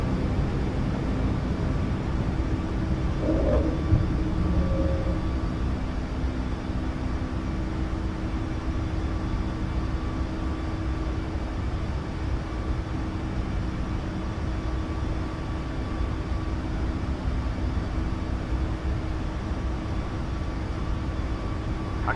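Boeing 737 MAX, an Akasa Air flight in Microsoft Flight Simulator 2020, climbing after takeoff: a steady, loud broadband engine roar with faint sustained hum tones, droning evenly throughout with no speech.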